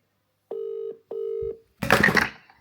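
A phone call connects with two long, evenly spaced ringback tones, each a clean steady hum of about half a second, followed by a brief burst of rustly handling noise at close range.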